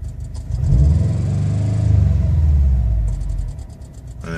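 A 2013 Subaru STI fitted with upgraded fuel injectors and rails revs up twice, its engine swelling into a loud, close rumble with light rapid ticking that rises with the revs and fades as the throttle closes.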